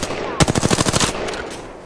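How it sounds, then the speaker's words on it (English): Video game gunfire on the Broken Moon map comes as a rapid burst of about ten close, loud automatic shots, tailing off into a brief echo. "I'm taking fire."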